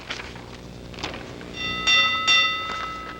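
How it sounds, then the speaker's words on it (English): A bell rings twice in quick succession, clear and ringing, after a few soft thumps, on a television news broadcast, with no talking. "let's wrap it up by ringing the bell for the parting shot"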